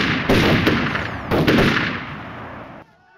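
Two sharp bursts of rifle fire from soldiers in a reenactment of the 1983 Grenada events ring out close and loud, each volley trailing off before the clip falls quiet.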